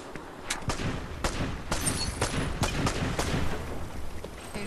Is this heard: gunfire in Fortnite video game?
yes